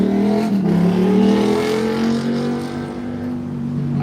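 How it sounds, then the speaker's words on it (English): A loud vehicle engine revs and drones, its pitch climbing and then holding steady at high volume before easing slightly near the end. "I hate loud vehicles."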